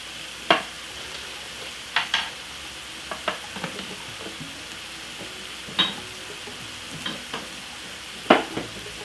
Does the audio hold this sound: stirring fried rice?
yes